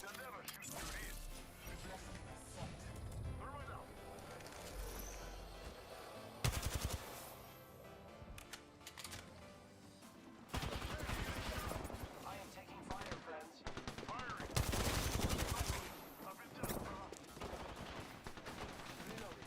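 Gunfire in a video game shootout, bursts of rapid automatic shots and sharp single cracks coming in clusters with pauses between them, along with mechanical clatter and crashes, while someone talks in between.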